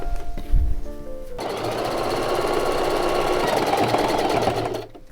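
A sewing machine runs steadily for several seconds, stitching straight side seams down a t-shirt with a wide stitch, loud and close before stopping abruptly near the end.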